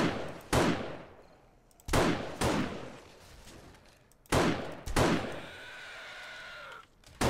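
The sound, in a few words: gunshots and reloading in 7 Days to Die video game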